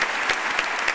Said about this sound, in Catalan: aquest aplaudiment és per tothom que ha desfilat ja i pels que venen a continuació